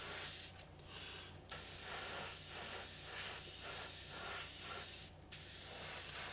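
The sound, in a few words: airbrush spraying paint on a model P-51D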